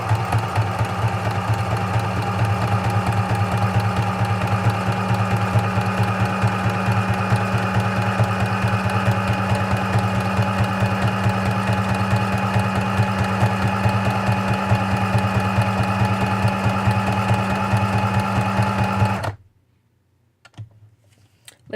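A sewing machine runs a steady straight stitch for about nineteen seconds, a constant close mechanical hum and rapid needle clatter, then stops abruptly into near silence.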